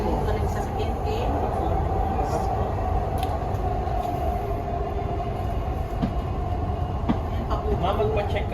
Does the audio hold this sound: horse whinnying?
no